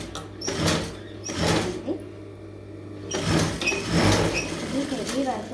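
A sewing machine stitching a kinari border onto a blouse, with bursts of running motor and needle rattle in short spells, close and fairly loud, while a person talks throughout.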